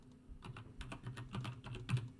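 Quick, irregular keystrokes tap out a short code on a computer keyboard, close and clear with no talking over them.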